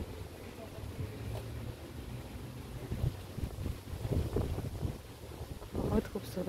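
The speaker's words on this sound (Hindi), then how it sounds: "बहुत खूबसूरत हवा है, हल्की हल्की ठंडी ठंडी।" Cool night wind blows steadily near a mosque, rumbling and buffeting against the microphone in uneven gusts, with faint background voices underneath.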